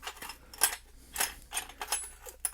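A Thorson open gear ratchet being handled at an outdoor tool meet: several close metallic clicks and clatters in short bursts, with no talking.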